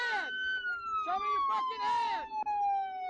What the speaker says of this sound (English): turn off the damn siren